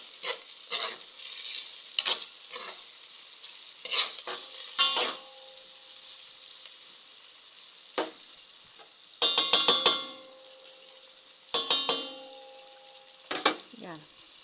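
Meat goes into a pan and is sautéed for Filipino ginisang monggo (mung bean stew), with bursts of stirring and scraping against the pan separated by quieter sizzling gaps, close up.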